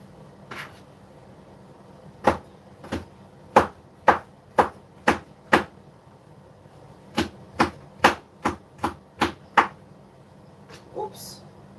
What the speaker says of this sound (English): So I'm just chopping this up in small pieces.